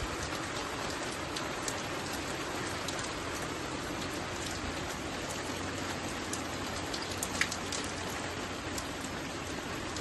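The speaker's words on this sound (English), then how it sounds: "that rain is really coming down now" Heavy rain pours down outdoors in a dense, steady hiss with scattered individual drops pattering on surfaces, unbroken throughout and with no voices.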